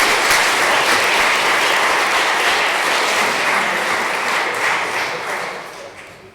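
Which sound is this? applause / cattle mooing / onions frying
applause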